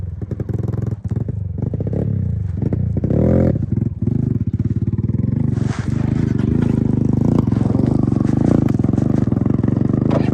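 A trail motorcycle climbs a steep rocky trail under heavy throttle, with a loud, continuous engine roar that rises and falls with revs, plus clatter and thumps from rocks under the wheels.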